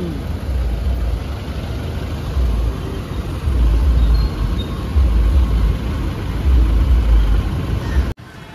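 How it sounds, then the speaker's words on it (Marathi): Heavy traffic jam on a road near Rameshwaram, Tamil Nadu, with cars and buses: a continuous low rumble of idling and creeping engines that swells in waves, then cuts off abruptly at the very end. "Full traffic jam."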